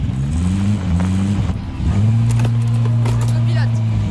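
A car drives and accelerates in the video game Warzone Pacific, its engine a steady droning hum that dips and then climbs as it revs up again, loud and close, with faint game voices.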